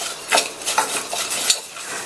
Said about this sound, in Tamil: இந்த குக்கரில் சேர்த்துட்டு 2 நிமிஷத்துக்கு மட்டும் மிதமான தீயில வச்சு இந்த பாசிப்பருப்பை வறுத்துக்கங்க